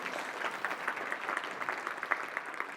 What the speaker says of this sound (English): a nice clap for Cherokee here